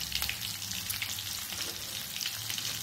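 Coconut and a pinch of asafoetida fry in hot oil with a dense, even sizzle and crackle, close and steady throughout, with faint stirring and no speech.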